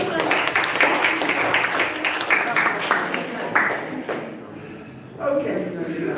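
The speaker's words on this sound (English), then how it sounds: "Give a clap." An audience at a live-streamed school gathering claps steadily, a dense wash of hand claps that fades toward the end before a brief pickup.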